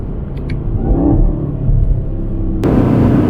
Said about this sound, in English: You hear the supercharger.